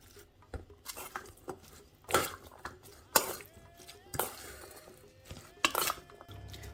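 Sliced onions stirred with mustard and salt in a bowl, giving irregular close clinks and scrapes of a utensil against the dish at a gentle, uneven pace, with soft talking in places.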